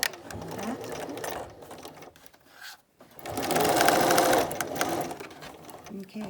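Sewing machine running close by as it stitches a rolled hem on a protective fabric mask, a steady mechanical whir in two runs separated by a brief pause.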